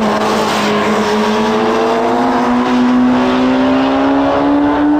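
Loud high-revving sport motorcycle engine, a Suzuki Hayabusa or Kawasaki ZZ-R1200, drones steadily, pitch slowly climbing as the bike accelerates along the track; no voices.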